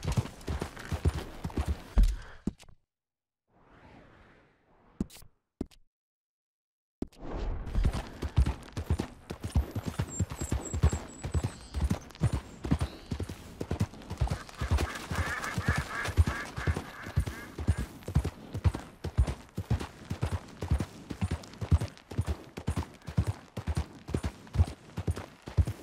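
Horse hooves in the video game Red Dead Redemption 2, a quick steady clip-clop of galloping that stops briefly into near silence, then resumes as a continuous close rhythmic beat for a long stretch.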